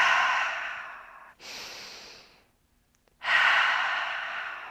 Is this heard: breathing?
yes